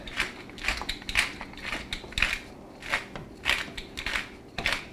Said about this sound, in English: we're just going to grind in some fresh black pepper